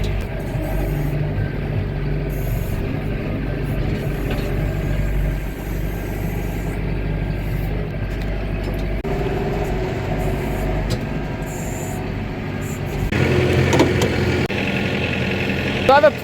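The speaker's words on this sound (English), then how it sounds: "it feels like I've basically been living in this tractor trying to clear all the snow and stuff" A tractor engine idles and runs steadily up close in a cab while clearing snow, a constant low rumble through the whole stretch that swells slightly near the end, with someone talking over it.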